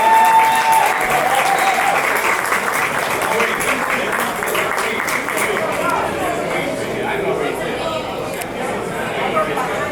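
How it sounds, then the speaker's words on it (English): Sustained audience applause at an indoor awards event honoring a musician, steady and dense clapping from a crowd for the full stretch, with faint chatter mixed in. "So please, give this man a round of applause."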